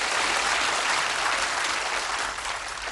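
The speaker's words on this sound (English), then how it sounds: "Give Kerry a nice warm round of applause as we throw for charity" A studio audience at a televised darts game show gives a warm round of applause for a charity throw, a dense, steady wash of many hands clapping at once that carries on without a break and eases slightly near the end.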